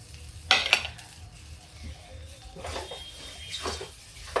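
Potato mixture with coriander and ginger frying and being stirred in a pan for breakfast potato tikki, with a soft steady sizzle and a few sharp scraping clinks near the start and later.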